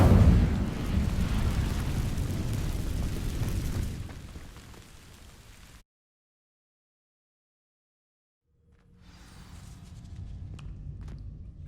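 An Incendio fire spell in Hogwarts Legacy bursts with a loud, roaring whoosh of flame that fades over several seconds. A full dropout of silence follows, then muffled ambient rumble returns.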